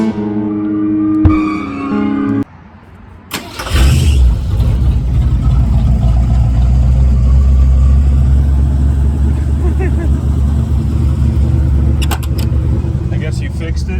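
A bullnose Ford truck engine cranks and fires up, then settles into a loud, steady running rumble close by after a brief stretch of talk at the start.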